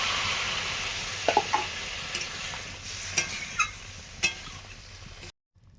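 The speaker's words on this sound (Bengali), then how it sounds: "এবারে জল দিয়ে দিলাম" Water poured over sautéed vegetables in a pan hisses in a broad sizzle, with several clinking, scraping stirs before it cuts off abruptly.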